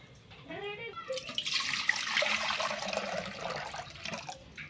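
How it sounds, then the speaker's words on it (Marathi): Close splashing and swishing of water as fenugreek leaves are rinsed and stirred in a basin, with trickling and dripping, moderately loud. "आपण छान अशी भाजी धुवून घेणार आहोत"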